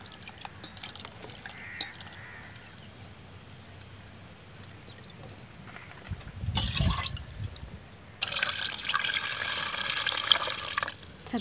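Water is poured over tamarind in a kitchen to wash it. There is a short splash of pouring near the middle, then a longer, louder rush of running water, all close by.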